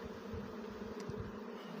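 Honeybees buzz steadily during a swarm transfer from a trap into a hive, a dense continuous hum of many bees, fairly faint and even throughout.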